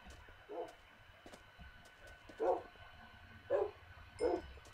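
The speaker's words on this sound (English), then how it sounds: "if I get attacked, my dogs will attack whatever attacked me" Tamed dogs in the Minecraft video game bark as they attack, with four short yips spread across a few seconds against a quiet game background.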